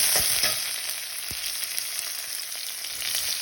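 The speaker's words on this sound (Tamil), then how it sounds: "வெங்காயம் போடுறேன்" Onion frying in hot oil with mustard, fennel and cumin seeds for a potato stir-fry, a steady close sizzle with a few sharp crackles and pops near the start, no one talking.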